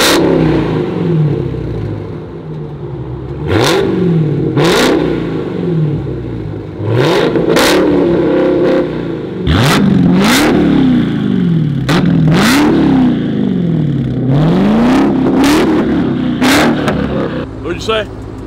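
Dodge Hellcat Redeye with its mufflers deleted, revving loudly and repeatedly at close range, with sharp rising surges and crackling throttle blips throughout, while people talk over it.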